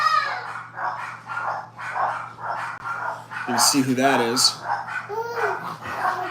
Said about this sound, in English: My dogs are going nuts in the other room.